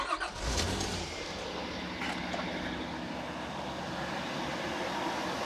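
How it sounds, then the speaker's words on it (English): A car engine during a fuel pressure test turns over with a brief burst at the start, then settles into a steady, continuous idle hum that holds evenly close by with no talking. "So let me go get the engine started and let's see where it goes."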